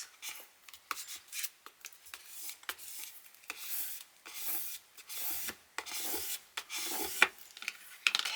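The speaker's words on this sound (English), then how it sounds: "So now I just need to burnish it down." Vinyl decal is burnished onto a Cricut blank with a series of quick, close scraping rubs in an irregular rhythm, each stroke a short dry swipe separated by brief gaps.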